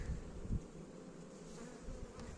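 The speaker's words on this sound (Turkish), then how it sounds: "Ama Anadolu arısı." Anatolian honey bees buzz steadily inside a hive during a queen-rearing inspection, a dense, continuous drone at close range with a couple of brief louder bumps near the start.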